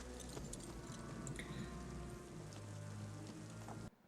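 Rain at night in the Western film Unforgiven pours steadily, a dense hiss of drops on surfaces with a low rumble underneath, moderately loud and unbroken until it cuts off abruptly at the end.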